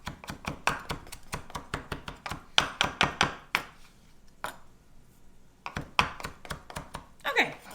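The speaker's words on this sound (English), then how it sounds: "Just do a rough chop here." A knife roughly chopping a handful of parsley on a board, quick rhythmic thunks in bursts with a short pause in the middle, close and fairly loud, while someone talks at times.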